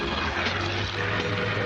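A seaplane propeller engine drones in a continuous, loud, steady roar with no other sounds.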